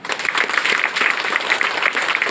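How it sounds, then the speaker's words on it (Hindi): An indoor audience at a Brahma Kumaris spiritual centre claps together in a loud, dense burst that stays steady throughout, with no voices standing out. "ताली बजाओ।"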